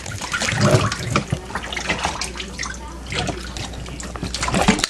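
Running water rinsing a chihuahua puppy during its first bath, a steady close splashing and trickling from a tap with uneven surges, without clear speech over it.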